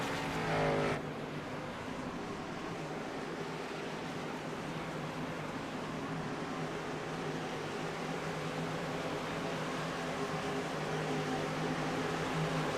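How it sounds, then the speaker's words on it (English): Race cars in a racing video game circle under caution at Homestead-Miami Speedway, their engines a steady droning rumble that holds evenly throughout with no talk. "As the pace car pulls in"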